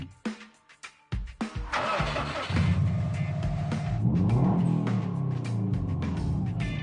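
A Japanese 350 hp gendarmerie pursuit car capable of 260 km/h cranks and fires up after a few clicks and clunks, then settles into a loud, close, rising revving roar.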